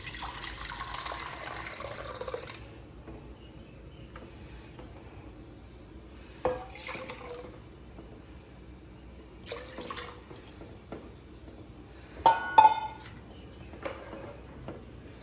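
Water poured into a cooking pot holding chopped potato, a steady light splashing at first, then scattered drips and small splashes, fairly faint with no talking.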